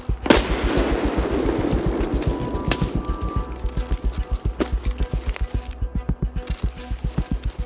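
A $10,000 rifle in Escape from Tarkov fires one sharp, heavy shot, followed by a long run of evenly spaced, fast thumping pulses that keep a steady rhythm to the end.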